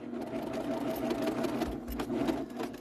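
A serger sewing machine runs in a continuous, fast mechanical whir as it edges fabric, close and steady with a slight rhythmic chatter.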